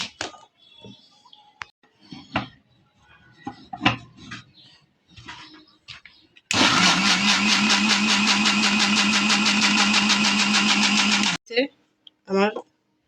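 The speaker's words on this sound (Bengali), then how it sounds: "এখন ব্লেন্ডারে জারটা লাগিয়ে নেব" A person talks briefly, then an electric blender whirs loudly and steadily for about five seconds as it blends a milk sherbet. It stops abruptly, and short bits of talk follow.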